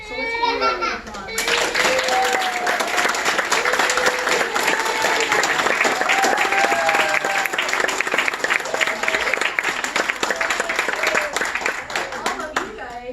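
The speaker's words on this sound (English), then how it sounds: "So let's give them a round of applause." A crowd gives a sustained round of applause for nine nursing assistant graduates at their graduation ceremony, steady dense clapping with children's voices and scattered chatter heard underneath.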